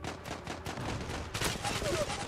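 Gunfire in the online shooter Zula during a capture-the-flag match: rapid, close bursts of shots that rattle in quick succession and swell louder near the end, with a player's voice mixed in.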